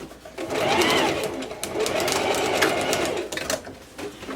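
A sewing machine runs steadily, stitching a seam in fabric for a bow with short pauses between bursts, close and loud with no talking.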